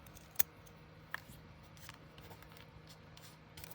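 Scissors cutting card paper for a handmade thank-you card, two crisp snips early on followed by faint rustles and small handling sounds over a low hum, quiet and close.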